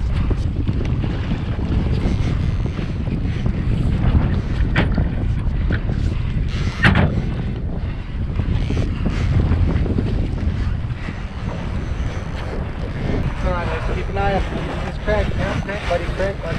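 A boat motor drones steadily beneath gusty wind rumbling across the microphone while bluefin tuna fishing off Morro Bay, California, with voices talking over it throughout.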